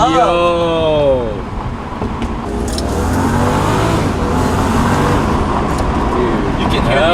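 A BMW with an N55 engine and fresh upgrades drives along, its engine climbing in pitch through a hard pull, dipping, then droning steadily under road noise from inside the cabin, with voices talking over it.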